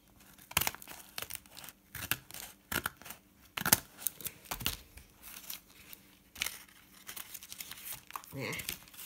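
A paper cutter slices paper in a series of separate sharp cuts and rustles, with handling and crinkling of sheets between strokes, close and clear.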